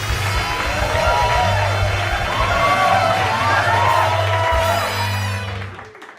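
A comedy club audience cheers, whoops and shouts loudly in a sustained roar of many voices with some clapping, holding strong for several seconds before tapering off.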